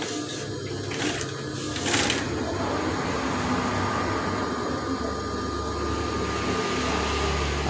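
Sewing machine stitching folded fabric, a steady close mechanical whir running throughout, with a few brief clicks near the start.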